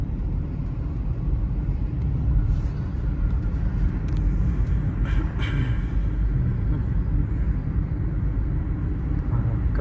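A car moving steadily during a driving lesson in Chandigarh, giving a continuous low engine and road rumble throughout with no breaks, heard from inside the cabin.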